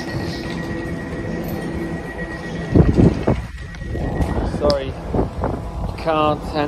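An Elizabeth line train departs from Ealing Broadway station, its rumble and wind-like rush building amid platform noise while someone talks nearby and another train runs in the background.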